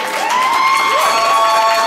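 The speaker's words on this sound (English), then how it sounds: "So ladies and gentlemen, go ahead and start clapping right now." A live audience at an R&B showcase clapping and cheering, a loud, dense wash of applause and shouts with a rising whoop sustained throughout, close and continuous.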